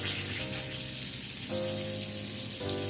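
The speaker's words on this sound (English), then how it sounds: "Because this is what we're going to use to fry our cabbage." Cabbage fries in hot bacon grease with a loud, continuous hissing sizzle, close up and unbroken, with no talking over it.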